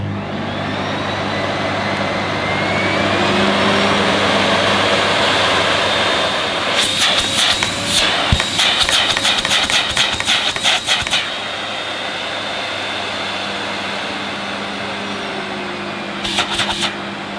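Karcher TSC 555 vacuum cleaner switched on and running: the motor rises to a steady, close, high-pitched whine, broken midway by a run of sharp clicking and rattling, with no talking.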